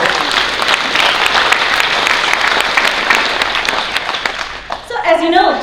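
A conference audience at an ORY APAC-US event applauds its sponsors with dense, sustained clapping that fills the room, then fades as a voice begins speaking at the end.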